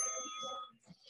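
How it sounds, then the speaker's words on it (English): A small bell rings during a cardio workout session, a short bright ring with sustained overtones that fades after well under a second, followed by faint room noise. "That's a nice little bell."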